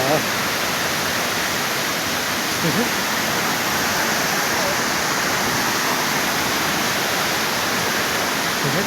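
A waterfall at Temple Park Rawang, Malaysia pours in a steady, dense rush of broadband water noise that holds unchanged for the whole stretch, loud and close with no break.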